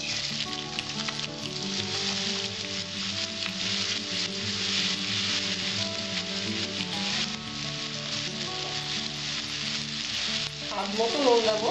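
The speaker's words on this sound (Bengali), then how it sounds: "আমার কড়াইয়ের তেলটা গরম হয়েছে, আমি এবার আলুগুলো ছেড়ে দিচ্ছি।" Potatoes sizzling loudly in hot mustard oil in a wok, a dense continuous frying hiss with occasional stirring scrapes, close and steady throughout.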